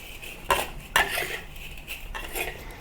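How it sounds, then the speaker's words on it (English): Rice being stir-fried in a wok, with a few sharp spatula scrapes and clanks against the metal followed by softer stirring, close and with no talk. "Stir fry the rice for about a minute or until the rice starts to become dry and"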